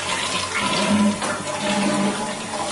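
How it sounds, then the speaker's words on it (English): A household toilet flushes nearby, a continuous rush of water that swells and ebbs for a few seconds without anyone speaking. "I have to flush."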